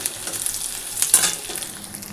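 Dried red chilli, nigella seeds, bay leaf and chopped onion sizzle in hot oil for a tempering, a steady crackling fry with a few brief stirring clatters, close and moderately loud, no voices.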